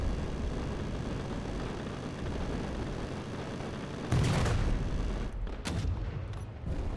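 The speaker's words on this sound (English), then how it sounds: "Firing. They have recoil?" Ship weapons firing in the video game Space Engineers: a heavy, booming volley bursts over a constant loud engine rumble, followed by a second, shorter blast a moment later.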